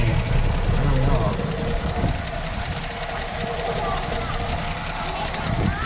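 A 1966 Dodge Coronet with a Slant 6 engine idles steadily up close in a garage, a continuous low rumble running throughout.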